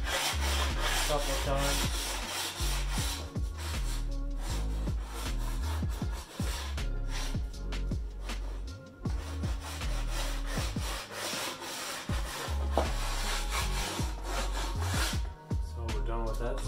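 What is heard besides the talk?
sharpening snowboard edge, passes up and down the board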